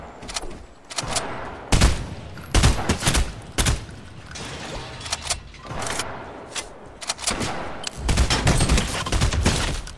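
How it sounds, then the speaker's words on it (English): Gunfire in the video game Fortnite, loud close volleys of rapid shots in irregular bursts, several dense clusters with brief gaps between them, over a busy game background. "It's different to shoot now."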